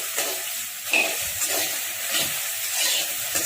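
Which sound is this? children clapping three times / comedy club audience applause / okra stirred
okra stirred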